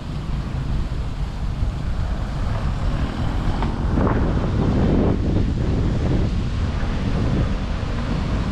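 Steady wind blowing across the seaside at Mactan Newtown in Lapu-Lapu City, Cebu, with a continuous broadband rush and microphone buffeting alongside the low wash of the sea, loud and unbroken throughout.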